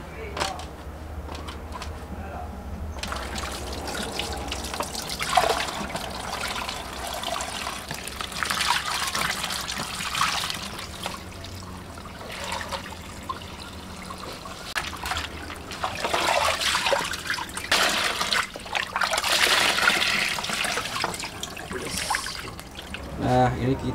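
Water runs and trickles while eggplants are washed by hand in a village kitchen, a close splashing, dribbling flow that swells and eases, with people talking over it at times.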